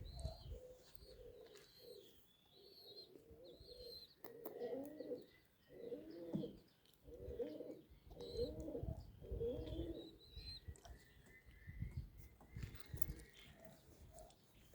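Pigeons coo close by in repeated throaty bursts while being fed, with a few small chirps and tweets scattered over a quiet background.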